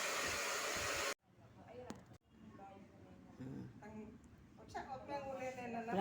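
A hair dryer blows loudly on hair for about a second, cuts off, then returns faintly under someone talking.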